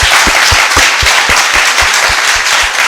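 Loud, dense applause from an audience at a conference closing session, a continuous wash of many hands with steady rhythmic thumps underneath, close and sustained throughout.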